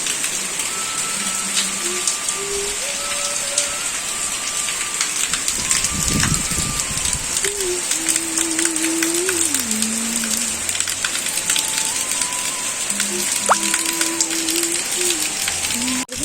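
Dense, constant rain patter fills the whole stretch, loud and close, with faint tonal sounds drifting through in the background.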